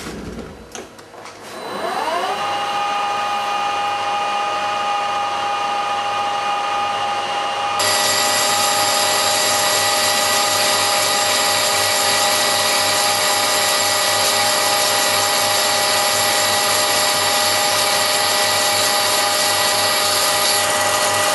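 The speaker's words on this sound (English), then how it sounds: "Now we're going to bore out the inside for the internal thread" A boring bar cuts the inside of a stainless steel workpiece on a lathe, giving a loud, steady machining whine with sustained tonal ringing that brightens partway through and carries on without pause or speech.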